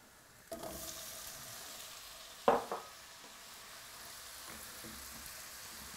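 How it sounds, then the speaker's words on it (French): Butter melting in a pan over fairly high heat, a soft steady sizzle with a brief louder clatter partway through, quiet and close. "Bien fondre le beurre."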